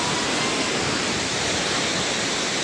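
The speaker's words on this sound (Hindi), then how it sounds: "वाह इतना सुंदर है ये वाटरफॉल" Mathu waterfall in Anini, Dibang Valley, pours in a dense, steady roar of falling water, loud and close with no break and no voices over it.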